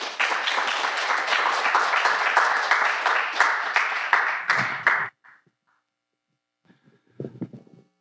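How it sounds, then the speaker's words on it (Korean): A church congregation claps to welcome the pastor to the front: dense, steady applause fills about five seconds, then stops abruptly, leaving near silence with a few faint knocks and rustles. "우리 전도사님 나오실 때 우리 박수로 환영하겠습니다"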